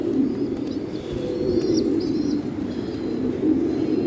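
American Saint pigeons at a farm loft coo in a steady, continuous low murmur with a few faint higher chirps, close by and with no talking.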